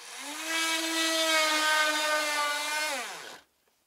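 A power tool boring a hole in wood for a birdhouse runs at a steady high-pitched whine for about three seconds, close and loud, then winds down and stops abruptly, followed by near silence.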